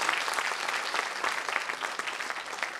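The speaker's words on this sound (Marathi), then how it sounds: "त्यामुळे सगळ्यांच्याकडे जबरदस्त टाळ्या पाहिजे. टाळ्याचा आवाज येतो तुमचा." Audience applause at a state-level literary award ceremony, a steady dense wash of many hands clapping throughout, close and loud with no break.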